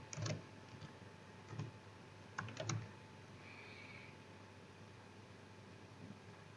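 Sparse keystrokes on a computer keyboard while HTML code is entered, a few short clustered bursts of clicks separated by pauses, quiet and close against a faint steady hum.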